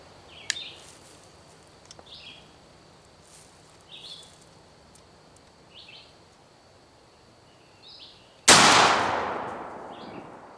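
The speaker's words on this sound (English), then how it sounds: "Let's shoot this number 5 ounce and 7/8 payload." A shotgun fires a single heavy Winchester Long Beard XR turkey load of 1 7/8 ounce number 5 shot outdoors, one loud sharp blast that rings off, with faint bird chirps scattered before it.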